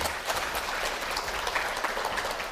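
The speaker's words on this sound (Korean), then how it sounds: "그래서 박수 치시는 거예요." A lecture audience at an education camp claps in dense, steady applause that continues evenly for the whole stretch, fairly close and loud.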